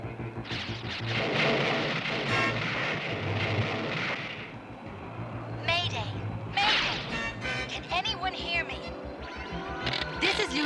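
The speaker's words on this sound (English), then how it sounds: "I've been caught in a cosmic storm and swept off course" A cosmic storm in the 1983 He-Man and the Masters of the Universe cartoon, with loud crashing thunder bursts and whipping electrical zaps layered over rumbling noise, plus swooping effect sounds throughout.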